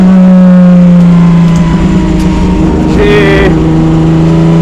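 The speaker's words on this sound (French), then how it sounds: "Et c'est un moteur qui demande juste à prendre des tours." A BMW M1 Procar race car's engine running very loud and close: a sustained deep mechanical drone with a clear rising rev partway through, then settling back to a strong, even roar.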